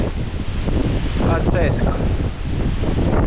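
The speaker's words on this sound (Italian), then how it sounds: "Guardate il vento tremendo che c'è." Strong wind buffets the microphone at a beach in Boracay, a loud continuous roar and rumble throughout, with a person speaking briefly over it.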